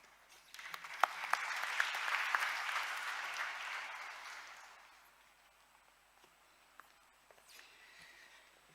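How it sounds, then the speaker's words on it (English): An audience applauds at an emotional memorial tribute gathering. The clapping swells quickly to a dense, steady roar, then fades away, leaving a few scattered claps and light shuffling near the end. "Let's give them another round of applause for their bravery"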